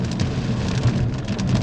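Rain drums steadily on a 2015 Hyundai Genesis 3.8L AWD sedan while driving, a dense close patter of drops over low road and engine rumble, with no voices.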